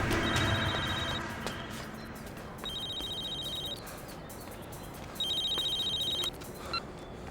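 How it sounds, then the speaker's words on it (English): A telephone rings with an incoming call, three electronic ring bursts repeating at steady intervals under a background of ambient noise in a tense TV drama scene, no speech. "Tom, this is coming in from Zoe's phone"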